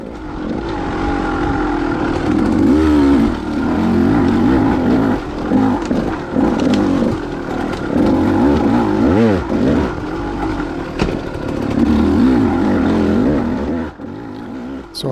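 A dirt bike engine runs steadily on a wooded trail, lugging low in the revs through turns, with loud continuous droning and rising, falling pitch shifts throughout, near and constant.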